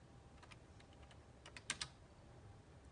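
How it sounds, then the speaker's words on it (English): Fingers tap on a computer keyboard in short, uneven bursts of clicks, a louder cluster of keystrokes near the middle, fairly close and alone. "So I'm going to type in here"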